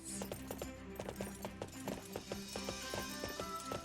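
Horse hooves clip-clop in a steady trotting rhythm during a ride in Fire Emblem Three Hopes, clear and even over a bed of game music.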